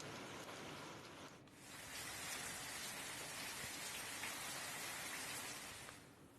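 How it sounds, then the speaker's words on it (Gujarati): Heavy rain driven by strong wind pours down in Amreli district, Gujarat, a steady broadband wash that swells after a brief dip and stays dense and even, heard faintly with no voices. "ભારે પવન સાથે વરસાદ ફૂંકાયો"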